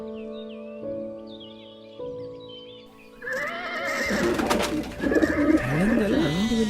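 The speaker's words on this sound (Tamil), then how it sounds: "கழுதை" A donkey brays loudly in repeated harsh, wavering calls partway in, after a quieter stretch of music, in a Christmas nativity marketplace scene.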